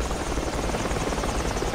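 Helicopter rotor chopping steadily in the Project Reality military shooter game, a loud continuous thudding drone with no voices over it.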